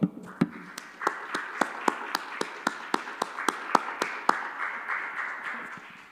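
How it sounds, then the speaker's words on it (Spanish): A church congregation applauds with a run of sharp, evenly spaced claps in a steady rhythm, backed by a softer wash of scattered clapping that fades slightly toward the end. "celebramos al Señor con un aplauso"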